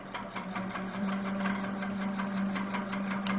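Sewing machine stitching the outer border of a quilt, a steady close mechanical hum with rapid regular needle ticking, alone without talk.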